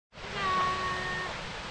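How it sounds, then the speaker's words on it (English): A steady broadband rush of water from Ramona Falls in Oregon rises and settles into a continuous roar, heard from some distance on a forest trail. "I think I hear a waterfall"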